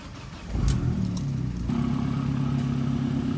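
Abarth 500 fitted with a Power Motive exhaust cranking and firing up, a brief starter burst settling into a steady, fairly loud idle rumble heard alone.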